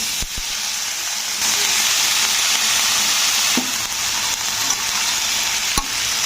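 Freshly washed, still-wet vegetables hit a pan of fried tempering spices and sizzle loudly and steadily, with a few sharp clicks from stirring or a spatula on the pan.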